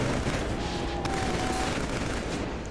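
Gunfire in the Killzone 3 video game, a dense, steady rattle of shots filling the whole moment at moderate loudness with no talk over it.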